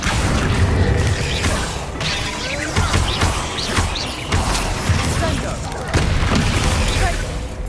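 Spell impacts from the video game Hogwarts Legacy come as repeated bursts, booms and crashes with whooshing casts between them, loud and close, while a voice calls out spell names over the effects.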